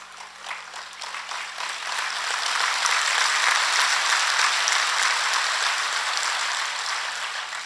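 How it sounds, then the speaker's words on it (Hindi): An audience at a religious gathering applauds with dense, sustained clapping that swells and holds steady for several seconds, loud and close. "मुझे इंतजार रहता है आपकी भाव भरी तालियों का।"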